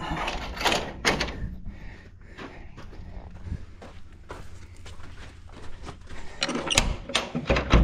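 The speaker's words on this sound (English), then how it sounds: "there's a damn bird's nest in the track of this door, because it has a catch in one spot" A sliding door with a bird's nest jammed in its track scrapes and catches as it moves, giving loud irregular bumps, clunks and rattles close by, with no talk.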